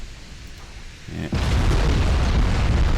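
A video game explosion destroying the enemy's main tower in an Imperial Austrian naval campaign, a sudden heavy boom after quieter background that then rumbles on loudly and continuously.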